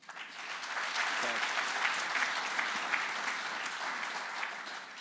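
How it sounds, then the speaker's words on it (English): Sustained audience applause at a Yaskawa technology event in Hattersheim, a dense, steady wash of clapping from a large crowd that continues evenly for the whole stretch. "And I'm inviting you to one more applause."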